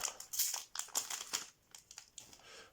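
Yu-Gi-Oh! booster pack foil wrappers crinkling and tearing as they are opened, bursts of bright rustling, close and moderately loud, with no talking.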